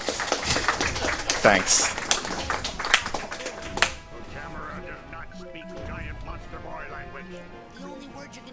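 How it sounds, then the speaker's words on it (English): A crowd claps for a Psychonauts speedrunner at a livestreamed speedrun event, a burst of scattered hand claps over the first few seconds that fades out, with someone talking over it and afterward. "you can clap if you want to too"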